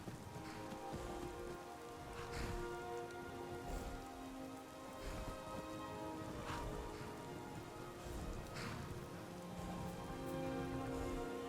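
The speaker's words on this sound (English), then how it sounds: "This rain will stop eventually." Steady rain falls in Skyrim, a soft continuous patter and hiss on surfaces throughout, with no voices.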